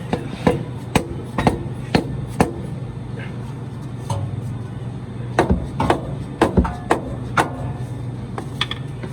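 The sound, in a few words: hammer hitting truck transmission pan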